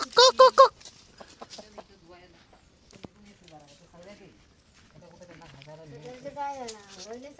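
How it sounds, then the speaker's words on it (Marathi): A rooster clucks in a short loud burst of calls at the start, followed by people talking through the rest. "हा कोणाचा कोंबडा?"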